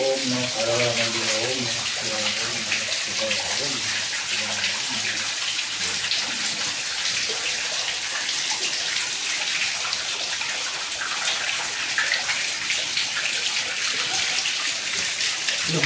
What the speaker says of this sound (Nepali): यस्तो पानी झरेको छ हेर्नु सक्नुहुन्छ सबैजनाले।